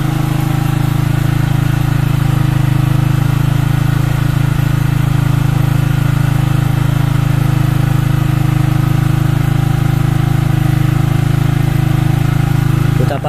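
A Yamaha Vixion motorcycle engine idling steadily and loudly up close, a continuous low drone that holds without a break.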